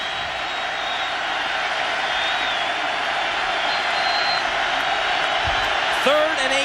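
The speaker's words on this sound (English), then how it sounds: "The crowd making lots of noise." A packed college football stadium crowd roars steadily during the 2003 Michigan vs Oregon game, a dense, loud wall of noise that never lets up, with a commentator's voice briefly over it near the end.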